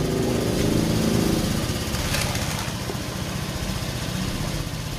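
A Honda Vario FI scooter engine runs at a steady idle close by, a continuous low rumbling putter that stays even for five seconds with no one talking.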